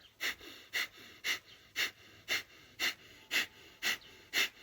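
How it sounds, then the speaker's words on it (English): Breath of fire in Kundalini practice, a rapid pumping breath driven from the navel, heard as about nine sharp, evenly spaced nasal exhalations close to the mic, with no talk. "breath of fire, which is a rapid pumping of your navel, breathing in and then rapidly just dropping the breath out like this"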